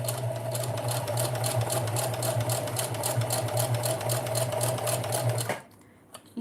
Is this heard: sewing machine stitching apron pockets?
yes